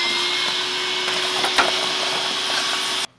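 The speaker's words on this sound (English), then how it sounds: "Alright, so, shop vac time?" A shop vac runs steadily while vacuuming inside a V6 Mustang drift car, a close continuous whine with a brief rattle of debris midway, then cuts off abruptly.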